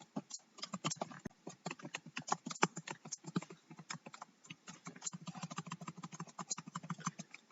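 Rapid, uneven clacking of keys on a computer keyboard, close and steady throughout, with no voices.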